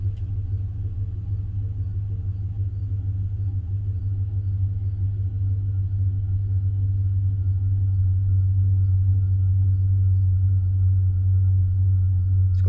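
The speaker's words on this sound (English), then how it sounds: "now fire it up. So, just sitting at idle, see if we get anything." A Chevrolet Silverado 5.3 V8 with an intermittent misfire idles steadily, a loud, constant low rumble with no talking.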